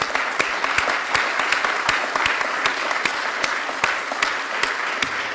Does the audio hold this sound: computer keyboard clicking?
no